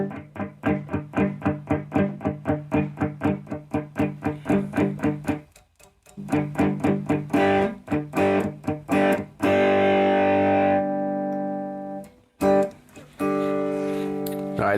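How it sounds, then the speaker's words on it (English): A Donner DMT66 electric guitar through an amp's distorted channel plays chugging, rhythmic chords, then rings out sustained crunchy notes and a few more strums, loud and alone with no talking. "we are going to switch over to the dirty side and see what it sounds like dirty"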